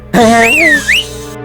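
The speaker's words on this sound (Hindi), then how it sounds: "तू क्या हर बात पे सीटी बजाते रहता है?" A person whistles a short, bright melodic phrase that swoops up and down, loud and close, ending with a quick upward slide, with no talk over it.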